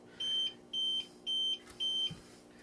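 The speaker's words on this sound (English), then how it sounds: "they will beep once every 30 seconds unless you silence them" An APC rack-mounted UPS running without AC power gives four evenly spaced, shrill electronic beeps, each about a quarter second long, with a low steady hum underneath.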